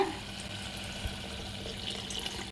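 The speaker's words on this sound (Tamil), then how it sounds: "பருப்பு சாதத்துக்கு தேவையான தண்ணி ஊற்றிக்கலாங்க." Water pours steadily into a cooking pot for chana dal rice, a soft continuous splashing rush, close and moderately quiet, no talking.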